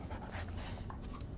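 A dog in the video game Blair Witch pants softly and close, with a faint whimper, the sound steady and quiet throughout.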